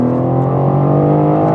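A BMW M4 CSL's engine blips and revs as the driver downshifts, giving a loud, close, humming engine drone over a brief moment with no speech.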